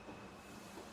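A subway train rumbles out of the station in a film scene from Jacob's Ladder, a faint, steady low roar with hiss and no talk.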